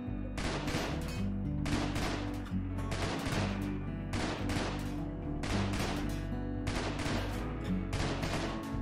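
Rapid bursts of gunfire from a shooter video game, loud and repeating in dense volleys over a sustained musical or droning game soundtrack, with no pauses between the shots.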